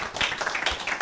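Audience clapping at an official ceremony on peace in eastern DR Congo, a brief burst of dense, moderately loud applause with many overlapping hand claps.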